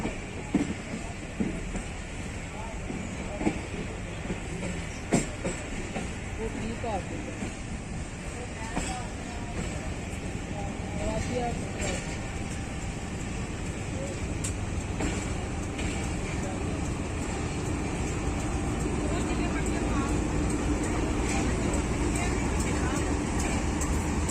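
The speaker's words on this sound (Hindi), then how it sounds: "ट्रेन अपने पहले स्टेशन ड्रेग रोड जंक्शन की तरफ रवां दवां है।" Allama Iqbal Express passenger train of Pakistan Railways running on rails out of Karachi toward Drigh Road Junction, a steady rumbling carriage noise with scattered clicks and knocks that grows slightly louder, with faint voices in the background.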